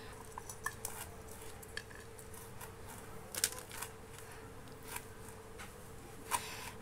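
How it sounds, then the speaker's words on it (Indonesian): Toasted fennel, cumin and other spices are ground in an ulekan stone mortar, giving quiet, irregular scrapes and sharp stone-on-stone knocks over a soft, continuous grinding rasp. "Uni haluskannya menggunakan ulakan ya."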